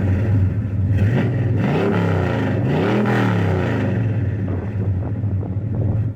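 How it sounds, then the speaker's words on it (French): A Dodge Charger's 383 cubic inch V8 revs loudly up close, its deep rumbling note climbing and falling through several throttle blips with no talk over it. "le V8 383 cubic inch là, il chante aussi très bien"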